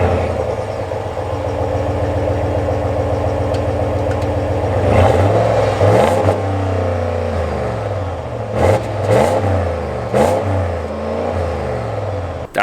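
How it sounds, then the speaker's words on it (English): 2024 Ram 1500 Laramie with the Hemi eTorque V8, heard from outside as it idles then takes several sharp throttle blips, the exhaust rising and falling in loud, deep revs. "I want to go outside and grab a quick exhaust clip for you"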